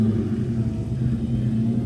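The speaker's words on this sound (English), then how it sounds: "Just hits different when you're watching your car drive away." A Mustang Cobra Terminator pulls away, its engine a steady, loud low rumble heard alone without voices.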